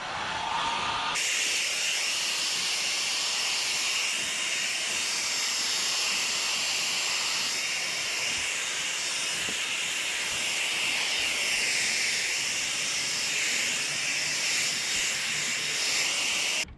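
A fan or hair dryer blowing air to dry fresh paint on a DIY dog house gives a loud, continuous broadband hiss. It starts abruptly after a second and holds steady to the end, with nothing else over it.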